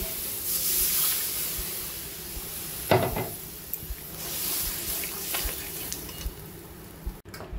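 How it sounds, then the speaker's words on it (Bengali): A little water from rinsing the grinder jar goes into hot, well-fried masala in a pan, giving a close hissing sizzle with a few sharp splashes and clatters that gradually settles down. "এবার আমি দিয়ে দেবো মিক্সির বাটিটা ধুয়ে অল্প করে জল।"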